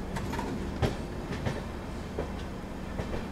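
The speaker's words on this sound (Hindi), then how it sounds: "ये ट्रेन तो आगे बढ़ जाएगी सहरसा की ओर" An LHB-coach Garib Rath Express train rolls toward New Delhi, heard from inside with a steady rumble and recurring clickety-clack beats from the rail joints every half second or so.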